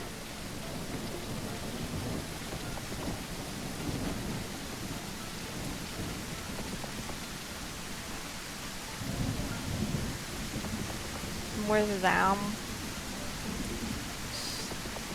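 Steady light rain with a few low rumbles of thunder in the dinosaur survival game The Isle, a soft continuous patter throughout with a brief louder swell near the end.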